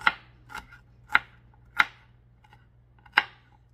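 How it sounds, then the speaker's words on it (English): A knife chops an onion on a cutting board for homemade yellow rice, five or six crisp, close knocks spaced unevenly with short pauses between them over a low steady hum, and no talking. "We're going to just chop that up."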